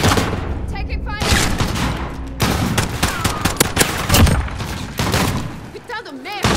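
Heavy gunfire in a Modern Warfare spec ops mission, dense overlapping bursts and shots at close range, loud and continuous, with voices heard amid the firefight.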